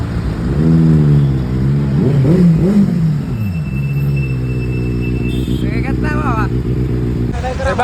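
A Benelli 600 motorcycle engine rumbles and revs up close, the pitch climbing and falling in a couple of throttle blips before settling into a steady idle, with people talking over it.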